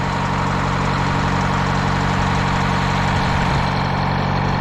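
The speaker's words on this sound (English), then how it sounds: "That engine just sounds smooth." Engine idling smoothly, steady and close with an even low rumble throughout and no voices.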